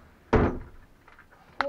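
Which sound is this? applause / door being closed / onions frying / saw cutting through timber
door being closed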